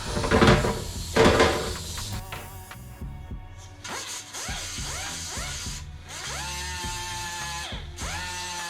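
A power sander with 80 grit paper works over spot welds on a 1949 Jeep Willys pickup cab, whining up and down in pitch in short bursts, with gritty abrasive rasping close by.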